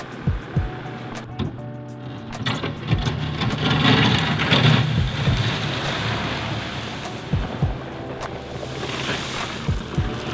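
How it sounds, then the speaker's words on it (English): A Case SV250 skid steer moves gravel inside a barn: a steady engine rumble with loose gravel rushing and scraping, punctuated by sharp metallic clunks and knocks from the bucket, close and fairly loud. "using the Case SV250 skid steer to pick up and move gravel around specific spots in the barn"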